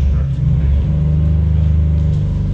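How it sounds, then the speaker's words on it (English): A neighbor's car engine runs and revs nearby while being tuned, a loud, continuous low rumble with a rough, uneven idle that does not sound healthy. "The neighbors are tuning a car"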